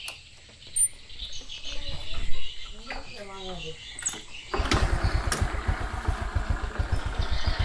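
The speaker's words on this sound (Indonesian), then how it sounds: "suara mesinnya udah halus" A voice talks briefly over faint background noise, then a Honda Supra 125 motorcycle engine starts up nearby and runs at a steady, smooth, even idle.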